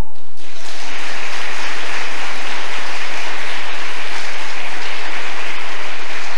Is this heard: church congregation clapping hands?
yes